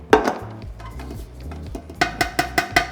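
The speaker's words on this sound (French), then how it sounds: "ce que je vais faire, c'est juste bien mélanger les pommes avec la fécule pour être sûr de ne pas avoir de grumeaux" Spoon scraping and knocking against a pot while apples are stirred with starch, soft rubbing strokes followed by a quick run of sharp clinks near the end, close and alone.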